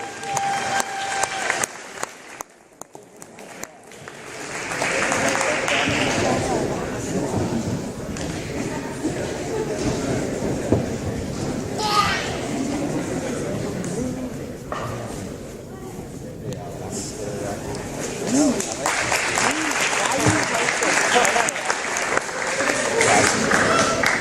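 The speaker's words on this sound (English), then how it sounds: "So big round of applause for Jacob Stryver." Sustained crowd applause fills a gym at a high school basketball senior night honoring a player, steady and fairly loud, with scattered shouts and a few voices over the clapping.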